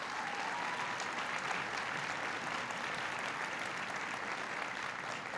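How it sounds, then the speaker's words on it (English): Steady, dense applause from a large crowd at an Obama event in Milwaukee, loud and continuous throughout with no pauses. "Please give him a big round of applause."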